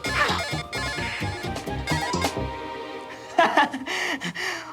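A mobile phone rings with a melodic electronic ringtone, a repeating tonal pattern that plays loudly for several seconds in a home in a Hindi TV serial, with a brief voice-like burst near the end.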